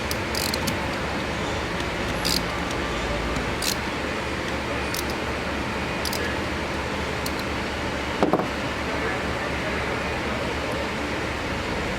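Bolts come off a Superior Driveline Shaftmaster shaft during a bearing replacement: a continuous close ratcheting whir of a hand tool runs throughout, with a few sharp metallic knocks scattered on top.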